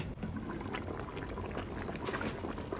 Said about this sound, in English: So we're just going to pour some more water.